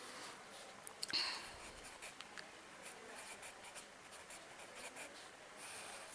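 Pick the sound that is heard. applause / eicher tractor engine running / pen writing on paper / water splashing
pen writing on paper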